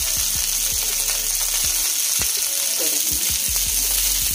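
Broccoli fries in a pan with a constant hiss, accompanied by intermittent ticking and scraping knocks from stirring, while a voice speaks briefly.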